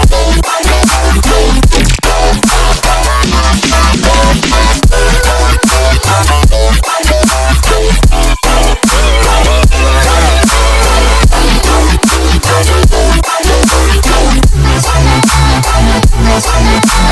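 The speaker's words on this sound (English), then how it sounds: "I've made a drop which is pretty much based on just one single dubstep growl" Dense, loud melodic brostep drop built from a single harmonic dubstep growl patch in Serum, with gritty, buzzing wobble bass pulsing steadily alongside punchy drums throughout, no gaps.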